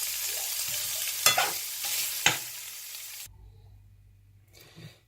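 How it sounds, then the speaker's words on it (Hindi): Chicken fries in oil with salt and chili, a bright close crackling sizzle with a couple of sharp spatula scrapes, which then cuts off to a quiet low hum and a last short burst. "थोड़ा सा ऑयल डाल के और थोड़ा सा नमक और हल्की सी मिर्च डाल के इसको फ्राई कर लेंगे।"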